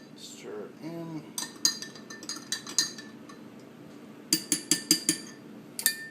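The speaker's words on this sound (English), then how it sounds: "Stir it in." A spoon stirring mother culture into raw milk for viili yogurt, with repeated clinks against a glass jar in short bursts, close and clear, a brief voice early.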